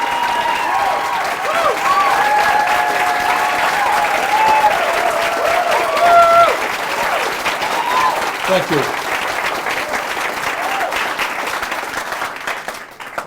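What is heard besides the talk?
applause from a small but loud crowd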